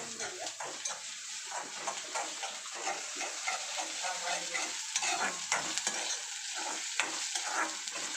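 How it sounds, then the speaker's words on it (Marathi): Ginger and garlic are fried and stirred with browned onion in a pan, giving a steady close sizzle with repeated scraping and clattering of a spatula against the pan. "सो त्यात टाकून चांगल्या प्रकारे हलवून घेऊया."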